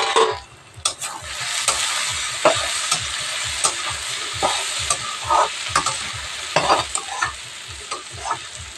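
Ivy gourd (kundri) frying in a pan, with a loud continuous sizzle broken by repeated scraping strokes of stirring, close up and with no talk.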